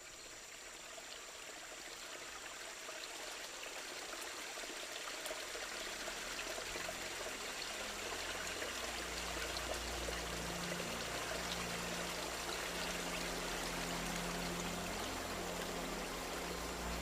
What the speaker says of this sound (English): The Las Piedras River is bursting its banks. Entire trees are carried away with the current.